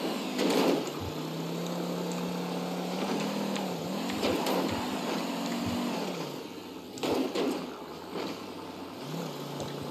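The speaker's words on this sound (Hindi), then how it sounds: "तो देखते हैं गैस अपनी 2021 वाली सफारी ऊपर पहुँच पाती कि नहीं पहुँच पाती है" A 2021 Tata Safari in GTA 5 climbing a bumpy speed-bump road, its engine droning steadily and rising and dipping in pitch with revs, with a few louder thumps and bursts along the way.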